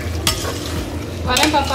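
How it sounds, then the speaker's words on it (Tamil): A spoon stirs chili powder, garam masala and turmeric into vegetable brinji frying in a pan, giving scraping strokes over a steady close sizzle. "இதெல்லாம் போட்டு நல்லா கிண்டி விட்டுருவோம்."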